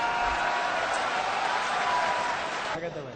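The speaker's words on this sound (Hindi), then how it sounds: "तो सब ताली बजा के समर्थन कीजिए।" An audience claps in support at a Hindi-language gathering, a dense, sustained patter of many hands that stays even and fairly loud before thinning out near the end, with crowd voices mixed in.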